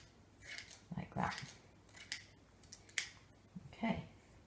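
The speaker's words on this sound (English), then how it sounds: "I'm just going to snip the ends" Kitchen scissors snipping the ends of short hair lifted straight out from the head: a handful of close, crisp snips spaced unevenly over a few seconds in a quiet room, with no talk.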